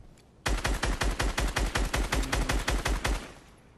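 Rapid automatic gunfire in a video game, a sustained burst of about twenty evenly spaced, loud, close shots lasting nearly three seconds before cutting off, with no talk.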